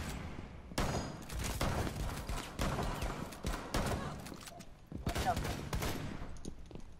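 Gunfire in Rainbow Six, dense rapid bursts and single shots crackling through a busy match, loud and close, with game sounds in the background.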